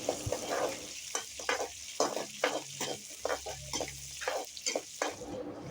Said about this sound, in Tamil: அடுத்து 1 ஸ்பூன் வெந்தயம், 200 கிராம் சின்ன வெங்காயம், கருவேப்பிலை போட்டு நல்லா வறுத்துக்கலாம்